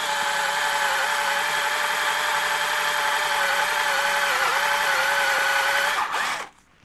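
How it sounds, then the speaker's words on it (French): An electric drill fitted with a 5 mm bit drills out a screw with a stripped head during an engine overhaul, a loud steady whine under load for about six seconds that then abruptly winds down. "j'ai pas pu la desserrer, donc forêt de 5 sur la perceuse."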